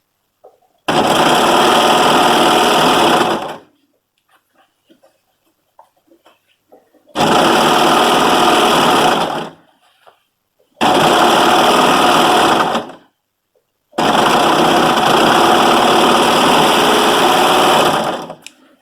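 An overlocker serger runs in four loud bursts while stitching fabric for a DIY sweater, each run lasting two to three seconds with short quiet gaps between, steady and close with no talking.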